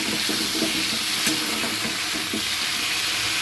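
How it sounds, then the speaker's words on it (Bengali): Sweet potato and pumpkin frying in a pan give a loud, continuous sizzle, broken by a few soft stirring scrapes and no talk. "রাঙা আলুর পরে কুমড়ো, এটাকে ভাজবো"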